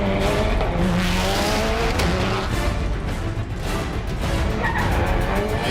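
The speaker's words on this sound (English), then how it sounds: "Using amazing dexterity, Ken was demonstrating how to keep the car perfectly balanced at all times." A Subaru Impreza rally car is driven hard on a loose surface, its engine roaring continuously up close while tires skid and squeal through sustained slides.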